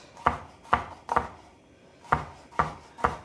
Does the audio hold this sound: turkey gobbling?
no